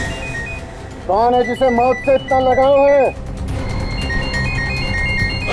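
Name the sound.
mobile phone ringing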